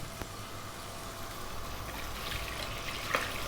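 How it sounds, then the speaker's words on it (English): Water is poured into a pot of hard pumpkin and vegetable pieces for soup, a steady soft rushing stream heard close and quietly, with no talking. "we're going to grab some water and put that in"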